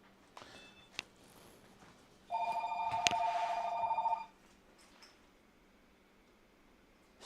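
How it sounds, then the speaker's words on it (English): A phone rings indoors in one clear burst of about two seconds, a steady electronic trill standing out against a quiet room with a few faint ticks and knocks before and after. "Of course the phone rings, that's fine."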